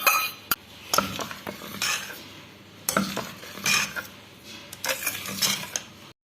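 Ghee-roasted coconut and sesame are stirred into sweet Kerala-style idli batter, with intermittent spoon clinks, taps and scraping against a bowl, close and fairly quiet, and no voices.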